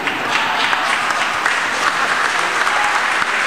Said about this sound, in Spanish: quienes reciben también el saludo y aplauso de los asistentes